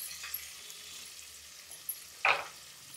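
Green chillies frying in hot oil in a home kitchen, a soft continuous sizzle with a brief louder spatter burst near the end, close by and with no talking.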